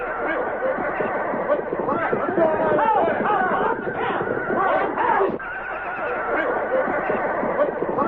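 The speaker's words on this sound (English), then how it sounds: "Then along toward dawn, there was an uproar of noise from the horses." Horses neigh and whinny in a noisy uproar near dawn at a camp in the old West, calls overlapping continuously and fairly loud with a busy babble of background noise throughout.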